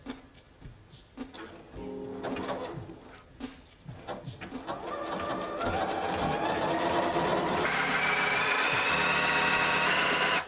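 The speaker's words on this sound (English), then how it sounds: "So let's sew it." A Brother sewing machine running an overcasting seam along a black stretch fabric sleeve, starting with short stop-start bursts, then a steady, rising mechanical whir for several seconds, close up and without talk.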